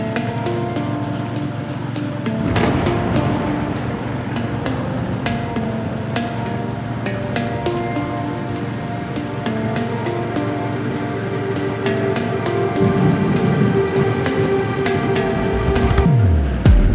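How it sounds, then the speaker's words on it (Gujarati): Rain falls at a roadside stop during a motorcycle tour near Anjneri Hill and gradually strengthens into a dense, steady downpour. A faint hum sits underneath, and the rain grows louder toward the end. "વરસાદ બી ધીમે ધીમે જોર પકડવા માંડ્યો હતો."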